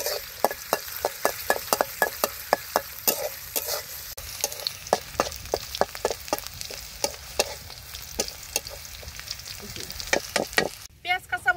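Onion and green chili fry in hot oil for a Bangladeshi village-style dried fish curry with chicken and gourd leaves, with a constant sizzle and frequent sharp scrapes of a spatula stirring the pan in an irregular rhythm.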